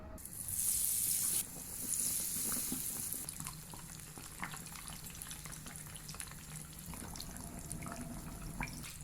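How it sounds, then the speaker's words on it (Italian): A wooden toothpick dipped into plentiful hot seed oil for frying crostini palermitani gives a faint, steady sizzle of fine crackles and tiny pops that runs throughout, with no talk. "Facciamo la prova con lo stuzzicadenti, attorno a lui dovrà sfrigolare."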